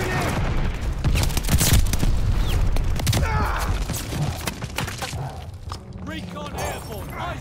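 Grenade explosion and gunfire in the World War II shooter Call of Duty: Vanguard, dense loud bursts of rapid shots and booming blasts that thin out toward the end, with game voices under the combat.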